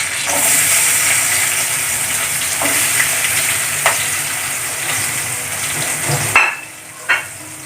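Garlic frying in hot oil in a pan for a ladies finger (okra) curry, a steady close sizzle with a few clinks of stirring, the hiss cutting off near the end and leaving quieter spatters.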